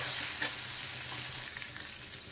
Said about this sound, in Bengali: আর আলু বেগুন কষতে থাক